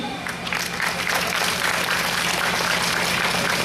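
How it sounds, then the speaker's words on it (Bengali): Steady applause from a hall audience at a school platinum jubilee function, continuous crowd clapping that swells slightly and holds, with faint voices mixed underneath. "তার প্রথমে সকলে মিলে হাততালি দিই"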